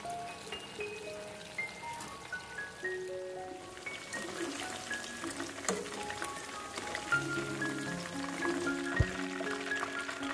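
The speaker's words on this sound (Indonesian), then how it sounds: "ini ayamnya aku goreng dulu setengah mateng gitu ya" Chicken pieces frying half-cooked in hot oil, giving a steady, dense crackle and spatter throughout, with faint tonal background music layered over it and no talk.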